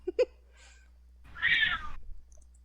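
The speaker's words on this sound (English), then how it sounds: "I just heard a cat meow." A single drawn-out cat meow, close and clear, follows a couple of brief faint sounds in an otherwise quiet room.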